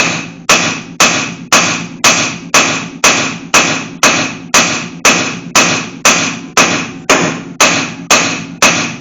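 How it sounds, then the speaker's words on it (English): Steady brass hammer blows on metal under a C3 Corvette Stingray ring out about twice a second, loud and close, each strike sharp with a short ringing decay, continuing evenly throughout. "I'm going to take my brass hammer and I'm just going to bang on it"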